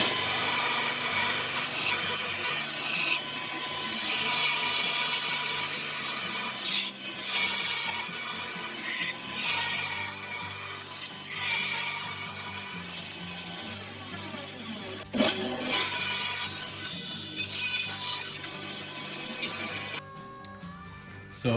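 A bandsaw cuts through a piece of wood, giving a steady, continuous rasp of blade on timber that carries on for the whole stretch before stopping abruptly near the end.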